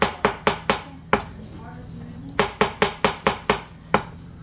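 A knife chopping through a package of mushrooms on a cutting board, a crisp rapid series of close knocks in two bursts separated by a short pause, with no talking.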